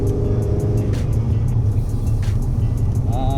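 A Foxbody Mustang with an 8.8 rear end rolls along in second gear: a steady low engine drone with drivetrain rumble inside the car, and a faint rising whine near the end.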